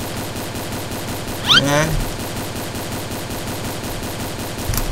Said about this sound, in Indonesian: Siapa itu bro yang nembakin selain kita?